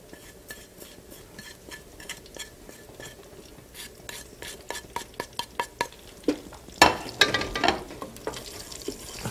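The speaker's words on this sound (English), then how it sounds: "fry up your ginger and your cumin and your chilies and your asafoetida" Ginger, cumin, chilies and asafoetida fry in a pan for rice and dal, with clinks of utensils and stirring throughout, then a louder burst of sizzling and scraping toward the end.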